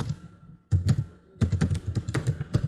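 Typing on a computer keyboard up close, one short burst of clicks, a pause, then a longer run of quick irregular key taps, with no talking.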